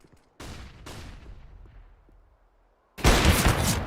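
Gunfire in a competitive shooter video game: two sharp shots ring out with decaying echo, then a gap of near silence before a loud, dense burst of rapid fire.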